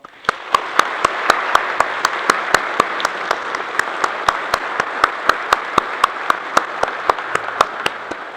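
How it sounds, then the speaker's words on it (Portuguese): A church congregation applauds a newly welcomed member during a Father's Day service, broad steady clapping with one sharp, regular loud clap standing out close by throughout. "a comunidade recebe a Catarina como mais novo membro aqui da nossa comunidade, com uma salva de palmas"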